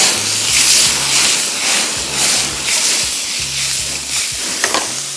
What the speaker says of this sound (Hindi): अब इसको हम थोड़ा सा करेंगे फ्राई